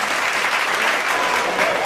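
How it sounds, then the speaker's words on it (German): Spectators at an indoor football tournament final applaud loudly and continuously, a dense roar of clapping filling the hall without pause. "unter dem tosenden Beifall der Zuschauer"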